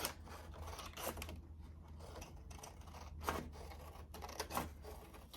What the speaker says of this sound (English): I'm gonna go ahead and start cutting this